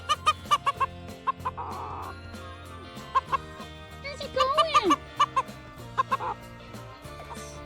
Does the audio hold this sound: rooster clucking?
yes